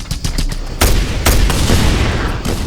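Dense gunfire from the Just Cause 2 video game, a sustained barrage of loud overlapping shots and booms with sharp bursts near the start and middle, close and continuous throughout.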